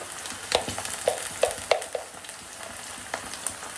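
Ginger sizzles in hot oil with onions and curry leaves, a steady crackling fry broken by sharp spatters and the occasional scrape of a spoon, close and fairly quiet with no talking.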